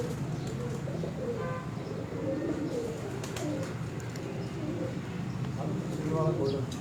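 Pigeons on a Multan rooftop give soft, low repeated coos under steady, fairly loud conversation between men, with faint chirps and some background noise throughout.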